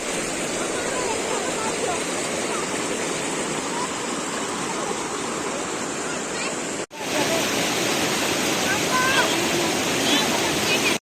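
Loud, steady broadband rush of a waterfall on a river, where people are sitting in the falling water, continuous and close for the whole stretch with a brief cut partway through; faint voices may sit underneath.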